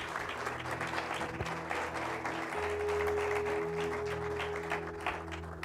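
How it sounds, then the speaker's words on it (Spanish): Sustained applause from a church congregation, steady clapping filling the space over a low organ-like hum. "Dale un aplauso al Señor."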